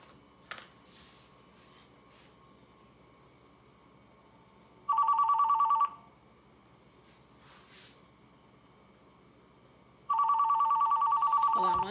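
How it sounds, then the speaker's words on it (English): A landline telephone rings in a quiet indoor craft workspace, two separate bursts of rapid electronic trilling about a second long each, fairly loud against low room hiss, with no talking. "Had a phone call."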